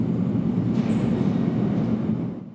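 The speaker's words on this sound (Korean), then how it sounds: "제가 지금 있는 이 공간 아래에는 이렇게 지하철 2호선이 지나고 있고요" A Seoul subway Line 2 train passes underground, heard from a hidden concrete space 13 m below Seoul Plaza: a steady, loud low rumble with a faint metallic whine, thinning out as it fades at the end.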